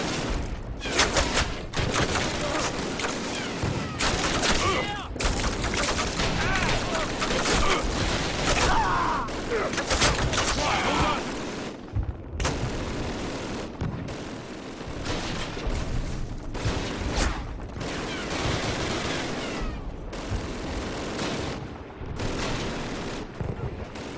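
Sustained battlefield gunfire in the original Call of Duty game: loud rapid machine-gun bursts and rifle shots with occasional booms, continuing in dense waves with brief gaps throughout.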